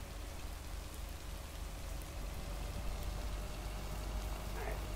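Heavy rain pours steadily in a video game scene by a lake with a dirt path and a big mail truck, a dense, even hiss that stays loud and constant with no breaks.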